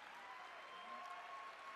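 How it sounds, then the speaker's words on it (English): Audience at an adult education national conference general session applauding the winners, a steady wash of clapping that holds evenly throughout at a moderate, somewhat distant level. "So how about one more round of applause for all of our winners"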